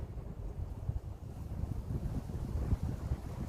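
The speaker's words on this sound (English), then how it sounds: "it is quite windy up here" Strong wind gusts buffet the microphone on a hilltop in Blists Hill pit mound woods at Madeley, Telford. A steady, loud, low roar rises and falls throughout with no break and no talking.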